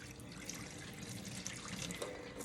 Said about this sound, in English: So we're gonna pour out our whey.